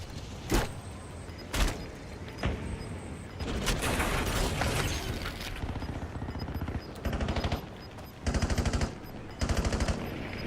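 Video-game gunfire with a magazine swap: sharp bursts of rapid automatic fire separated by metallic clicks and reload handling, then more loud, rattling volleys near the end.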